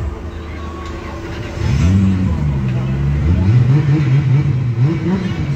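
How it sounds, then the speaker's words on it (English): A car engine at a pop-up car meet idles roughly and then revs up into a loud, wavering drone that rises and falls, close by, with people talking nearby. "Gotta rev it some more."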